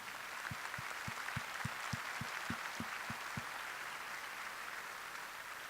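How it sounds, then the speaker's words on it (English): A crowd at a State of the City luncheon applauds with broad, steady clapping that stays fairly even, while a few sharper regular thumps repeat in the first half. "Let's give everyone a round of applause."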